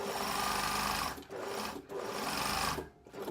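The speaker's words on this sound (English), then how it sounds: "So I'm just going to sew along this edge." A sewing machine runs fast and close, stitching along a fabric edge in three continuous bursts separated by brief pauses, steady and loud with no talking.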